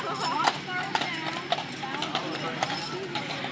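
Steady clip-clop of horse hooves on pavement, a regular walking rhythm of sharp knocks beneath ongoing conversation and outdoor background noise.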